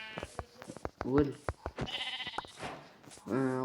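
Sheep bleat in a video game, two short bleats sounding apart from each other while a person talks over the game audio.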